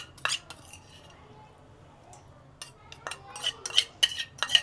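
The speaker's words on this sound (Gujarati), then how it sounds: "બધું મિક્સ કરી નાખવાનું." A spoon stirs ginger, chili and garlic into a cabbage muthiya batter, with a few early clinks against the bowl, then a pause, then quicker close scraping and clinking of metal on the dish.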